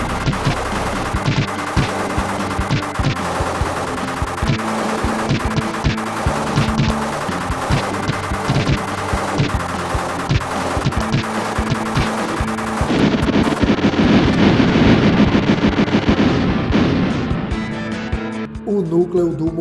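Rapid, continuous retro shooting effects pour out over busy game music in the ship-flying stage of a Superman game on Super Nintendo or Mega Drive, where the player fires at a missile headed for Metropolis, ending in a denser burst of blasts.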